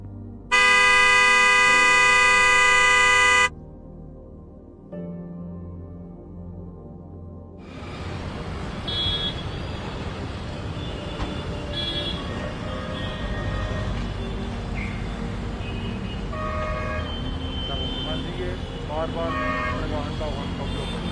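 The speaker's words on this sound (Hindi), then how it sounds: "आप क्यों हॉर्न बजा रहे थे?" A loud, sustained car horn blares for a few seconds, then busy road traffic in Jaipur, India rumbles on with more honks and people talking.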